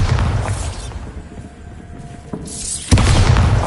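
A Bombarda blasting spell explodes in a Harry Potter game, a deep rumbling boom that dies away into near quiet before a second heavy blast hits at the end.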